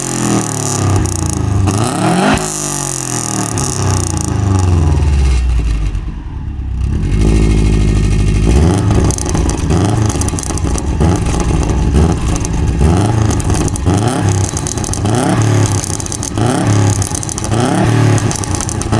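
A turbocharged Subaru Impreza GT, modified to run on ethanol, revs hard and close in repeated rising and falling bursts, with a deep rumbling idle and a brief quiet dip midway.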